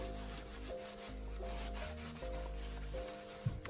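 A cloth rubs steadily back and forth over a wooden craft sign, a close, soft scraping texture with a low hum behind it and a small knock near the end; nobody speaks.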